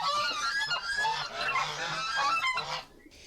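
Territorial geese kept as guards in a prison yard honk loudly and close by. Their harsh calls overlap in a noisy chorus that cuts off near the end.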